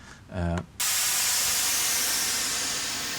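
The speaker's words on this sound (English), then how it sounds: "So instead of using a cymbal, you're just using white noise" White noise used as a stand-in for a crash cymbal: a loud, steady broadband hiss bursts in abruptly after a brief tonal sound and holds for several seconds, slowly fading.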